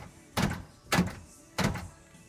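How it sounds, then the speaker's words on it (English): Three dull mechanical thunks from the driver's-side power door locks on a first-generation Cummins truck, evenly spaced and close, with quiet pauses between them. "So here's the door locks. Up, down,"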